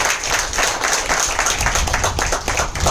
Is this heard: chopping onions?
no